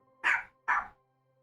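A dog barks twice in quick succession indoors, two sharp, fairly loud barks close by, followed by quiet.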